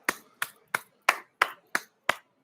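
Seven sharp hand claps in an even, steady rhythm, close and fairly crisp, each with a quick decay and no talking around them.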